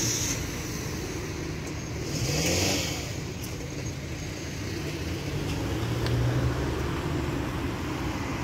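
A Tata car passes along a busy city street at night in Riyadh, its engine humming and swelling briefly over a steady wash of traffic and road noise, with no voices.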